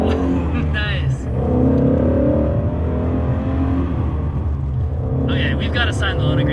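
A 526 hp Shelby Mustang GT350 engine cruising at about 1,000 rpm, a steady low rumble inside the car with people talking over it throughout.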